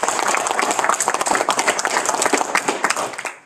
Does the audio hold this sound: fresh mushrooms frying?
no